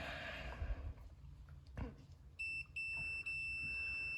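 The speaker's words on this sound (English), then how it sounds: "that's when we should hear the meter start to actually stop beeping" A multimeter's steady high-pitched electronic beep sounds continuously while testing ignition points on a Tecumseh H35 mini bike engine, briefly interrupted twice, after a few soft thumps and handling noises.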